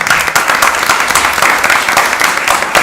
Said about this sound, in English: Another round of applause for our Lewiston leader.